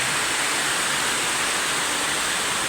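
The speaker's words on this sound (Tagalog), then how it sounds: "Grabe nga po, talagang ulan dito, halos magdama." Heavy rain falls steadily outside a house, a constant, even hiss of downpour with no breaks and no voices over it.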